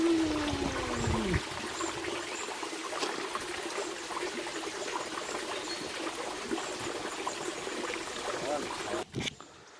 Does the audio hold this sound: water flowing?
yes